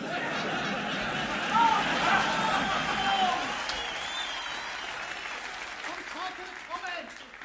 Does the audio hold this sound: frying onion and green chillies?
no